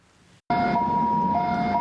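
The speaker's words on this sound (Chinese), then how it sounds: "救护车驶到工地" An ambulance siren wails at a construction site, starting abruptly and holding loud, steady two-level tones for just over a second above a background rumble.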